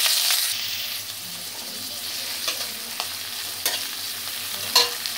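Chopped onion fries with cumin seeds in hot oil for chana masala, giving a constant close sizzle broken by occasional scrapes and taps of a spatula as it is stirred.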